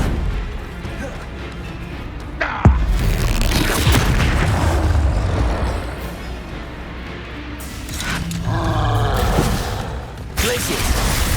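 Bombarda spells burst in Hogwarts Legacy combat as loud, booming explosions and crashes, one sharp blast standing out among continuous roaring impacts, with a spoken voice between them.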